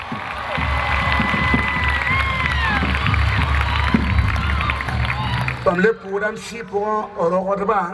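A church congregation cheering and acclaiming, a dense crowd of raised voices and shouts filling the hall, giving way near the end to a single voice speaking alone.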